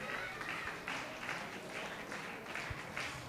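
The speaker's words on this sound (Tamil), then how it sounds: "கைத்தட்டுங்க." A church audience breaks into applause, a moderate wash of clapping with rhythmic bursts of claps, fairly distant and steady throughout.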